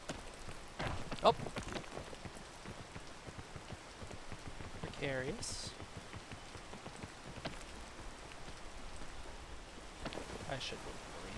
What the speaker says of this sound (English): I should wait for rain to die down.